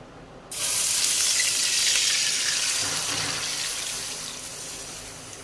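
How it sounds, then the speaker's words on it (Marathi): Water is poured into oil for chakli dough made from half a kilo of flour, a sudden steady gush that starts after a brief quiet and gradually softens, close and fairly loud, with no speech. "चारशे मिली ते साडेचारशे मिली पाणी घेतलेलं आहे ते ओतून घेऊया"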